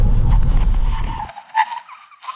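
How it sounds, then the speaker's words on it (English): Genesis GV70 SUV making a full emergency stop from 60 mph, with loud low road and tire rumble that cuts out abruptly as the car halts, followed by faint interior noise. "Here we go, full emergency stop coming up now."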